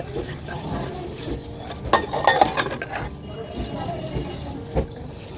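Pots, dishes and cutlery clatter and clink while being scrubbed clean at a sink, with scraping and sharp metallic knocks, as a person talks over the washing.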